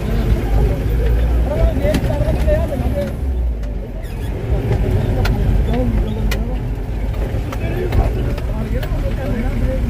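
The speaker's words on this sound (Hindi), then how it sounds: "4x4 ये महिंद्रा की गाड़ी अपनी पूर्ण रफ्तार से चलती हुई" A Mahindra 4x4 runs at full speed across the Sam desert dunes near Jaisalmer, its engine a continuous heavy drone with bumps and rattles. Someone talks over it throughout.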